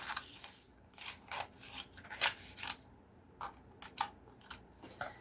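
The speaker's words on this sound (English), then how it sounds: "Alright, so now you pretty much will cut off anything excess" Scissors snipping away excess material in a string of close, short rasping cuts with brief gaps between them, alone without talking.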